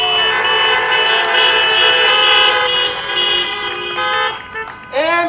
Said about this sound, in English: Give them some honks